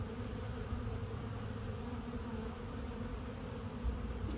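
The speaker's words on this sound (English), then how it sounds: "you can really hear the hive roar." A honeybee hive roars with the steady, dense drone of many bees flying near the entrance on an autumn garden evening, a continuous close buzz with no talking.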